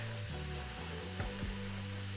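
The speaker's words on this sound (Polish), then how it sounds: "I to niech się pomału nam smaży." A steady, quiet sizzle of mushrooms and onions frying in a pan, continuous and close, with a couple of faint clicks.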